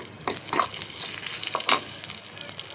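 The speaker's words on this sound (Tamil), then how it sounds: "கொஞ்சமாக முந்திரி திராட்சை வறுத்து போட்டுடலாம்." Cashews and raisins frying in ghee for payasam, a close, crackling sizzle with bursts of spattering pops that rise and fall, and no voices.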